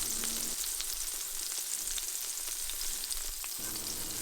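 A provolone cheese sandwich fries in a pan with a steady, close sizzle and faint crackles throughout, with no voices.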